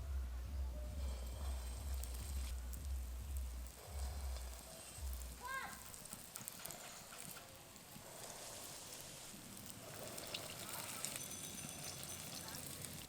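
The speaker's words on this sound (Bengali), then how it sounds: "বড়াগুলো হালকা গরম তেলে ভেজে নিচ্ছি" Dahi vada (doi bora) lentil fritters frying in moderately hot oil, a continuous soft sizzle and bubbling heard close, with a low hum and talk over parts of it.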